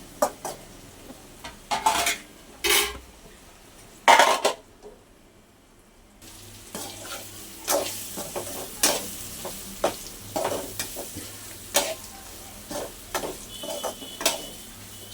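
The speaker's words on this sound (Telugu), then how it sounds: "ఇలా లో ఫ్లేమ్లోనే పెట్టుకొని ఉడికించుకోవాలి కాకరకాయని. ఇలా 2-3 నిమిషాలకు ఒకసారి ఇలా కలుపుకుంటూ ఉండాలి" Bitter gourd fries on a low flame while a spatula stirs it, giving rhythmic metallic scrapes and knocks against the pan over a soft, steady sizzle, with one short quiet gap.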